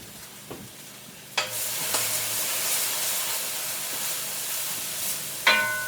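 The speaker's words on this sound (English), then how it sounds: "Tablespoon of minced garlic right in with that hamburger grease." Minced garlic hits hot hamburger grease with a sharp burst of bright sizzle that holds steady and loud, marked by a couple of utensil clinks and a fresh flare of sizzling near the end.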